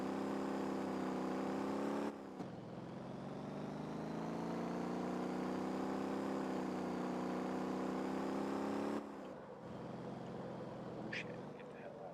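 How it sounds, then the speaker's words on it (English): A loud vehicle engine in a video game drones steadily with a rich humming tone. It cuts off abruptly twice and then resumes, with no speech over it. "Freaking loud ass engine."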